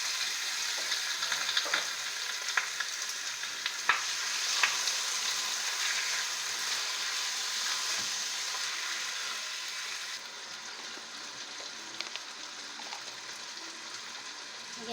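Chicken pieces stir-fry with onions in a pan, giving a steady close crackling sizzle dotted with small pops and utensil taps. The sound eases slightly partway through, and no one talks.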